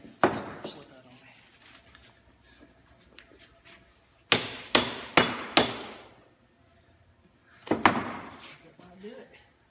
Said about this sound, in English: so I tap this block back up in here just a little bit